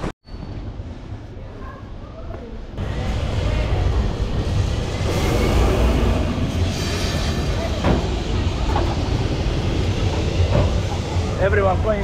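A tram passes through the steep old streets of Alfama in Lisbon, a steady rumbling roll with faint clicks that grows louder partway through, under gusty wind noise and a background murmur of voices.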